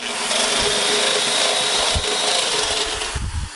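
A power drill cuts a circular hole in a water filter container, giving a loud, continuous grinding whir with a rough rubbing texture that tapers off near the end.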